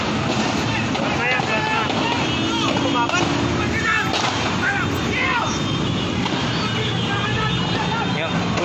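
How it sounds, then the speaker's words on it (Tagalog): Gunfire from a police and PDEA buy-bust shootout at Ever Gotesco Commonwealth, heard as scattered distant shots in gusty wind under the excited talk and chatter of nearby onlookers. "Grabing putukan dito."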